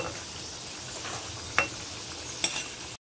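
Katori chaat cups fry in hot oil with a soft, continuous sizzle, punctuated by two brief sharp utensil clinks, heard close and without talk.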